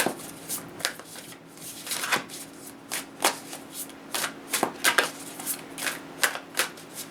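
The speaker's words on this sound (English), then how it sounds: "let's see if we can just get one card here." Tarot cards are shuffled by hand in quick riffling bursts, close and crisp, repeating at an irregular rhythm over a faint steady hum with no talking.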